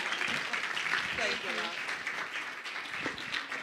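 An audience applauds at an AVPA membership launch event as a speaker leaves the stage. The clapping is a steady, moderately loud wash that runs the whole time, with voices talking over it.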